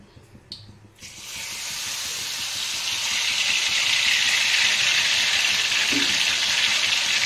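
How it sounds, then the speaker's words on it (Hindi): Ghevar batter is poured into hot oil and starts a loud, steady sizzle. The sizzle swells after the first second and holds as a broad, continuous hiss close by. There is no talking. "तो हमें घोल थोड़ा थोड़ा करके डालना है।"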